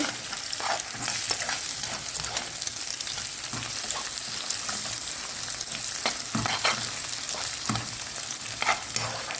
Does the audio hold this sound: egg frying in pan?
yes